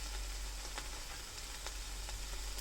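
Tuna and onions sizzle steadily in a frying pan, a close continuous hiss and crackle with faint occasional pops.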